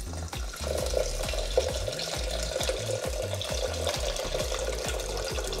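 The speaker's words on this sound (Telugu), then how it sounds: "నీళ్ళు పోసేసాయి తొందరగా." Water poured into a pressure cooker holding pigeon pea and chana dal on a gas stove, a continuous gurgling splash with rhythmic low pulsing, close and steady, with no speech.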